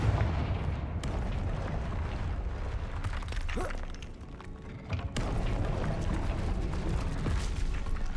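Confringo fire spells blast in Hogwarts Legacy gameplay, a dense run of loud, booming explosions and bursts with sharp cracks near one second and around five seconds, the rumble briefly easing in the middle before surging again.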